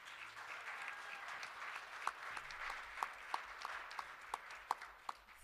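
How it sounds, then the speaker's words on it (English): Scattered, fairly faint audience applause at an asbestos awareness conference talk, a soft clapping bed with several sharper individual claps standing out toward the end. "we should applaud this."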